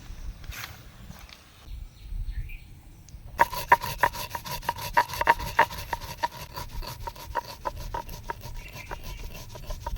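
Mustard seed and green chili are ground by hand on a flat grinding stone, starting with a few soft scrapes and then settling into a steady run of rhythmic, gritty strokes close by.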